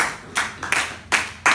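People clapping at a Thanksgiving family gathering, four quick bursts of close hand claps in an uneven rhythm, loud and sharp, with no one talking.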